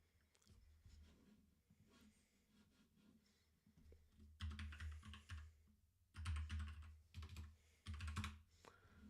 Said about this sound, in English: Trying to type.